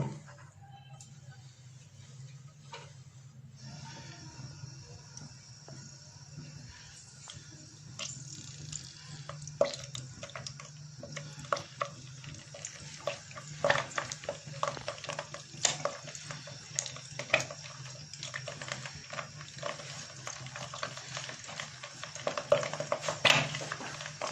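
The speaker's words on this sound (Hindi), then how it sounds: "अब मैं फ्राई करूँगा इन फिल्ड चिलीज को।" Filled chilies frying in a pan for achar chicken, a steady broadband sizzle running throughout with occasional clinks and scrapes of a utensil, growing busier toward the end; no talking.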